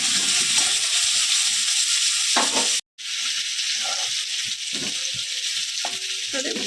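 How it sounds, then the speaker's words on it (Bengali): New baby potatoes, boiled with salt and turmeric, fry in oil in a wok for a Bengali potato and pea dum, a loud continuous close sizzle broken by a brief cut, with occasional spatula scrapes and knocks. "এভাবে আমি আলুগুলোকে একটু লাল লাল করে ভেজে নেব"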